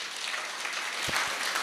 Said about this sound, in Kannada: ಚಪ್ಪಾಳೆ ಕೊರಡು ದಯಪಂಡ